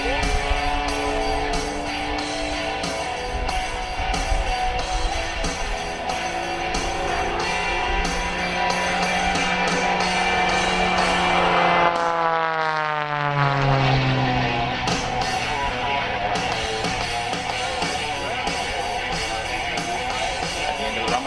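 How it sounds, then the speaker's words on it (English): A Wolf Pitts Pro aerobatic biplane roars past low at an airshow display, its propeller engine loud and sustained, its pitch sweeping down sharply as it passes, with a commentator talking over the noise. "He's going to reposition the aircraft down on the deck at speeds of over 300 kilometres an hour."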